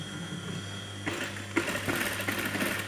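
An electric sewing machine stitches a ban collar on a kameez, a steady mechanical whir starting after a brief pause and running continuously at close range with small rhythmic bursts.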